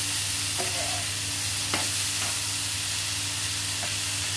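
Bitter gourd with small shrimp being stirred in a frying pan, a steady loud sizzle with a few sharp utensil scrapes and clicks against the pan, no voices.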